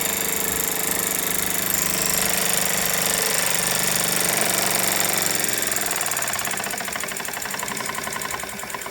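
A Jensen Model 25 toy steam engine runs hard on a tabletop, its rapid, steady mechanical chatter loud and close, with a dense metallic rattle holding throughout and easing only slightly near the end.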